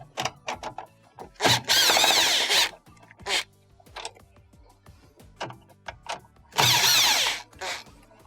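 Power drill backing out Phillips screws from a plastic lid housing on a Frigidaire washer, two loud sustained whirring bursts separated by scattered clicks, taps and handling noises.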